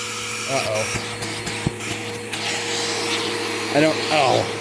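A Bissell PowerForce Helix Turbo vacuum cleaner drones loudly and steadily nearby, its motor whine constant while a person speaks briefly over it.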